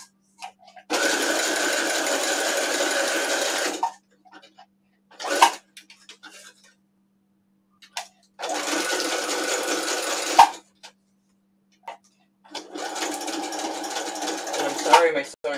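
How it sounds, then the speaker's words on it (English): Sewing machine stitching in three separate bursts of rapid whirring, each a few seconds long, with quiet pauses and brief handling noises between. "Insert sewing machine noise here."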